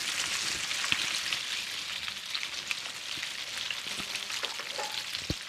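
Food flipped in a pan crackles and sizzles steadily, a dense broadband frying hiss with a few sharper pops, close and continuous throughout with no talk.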